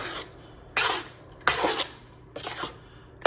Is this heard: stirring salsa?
yes